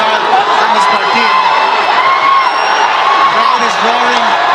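A boxing arena crowd roars and whoops in a loud, continuous wash of shouting voices, with individual yells rising and falling throughout.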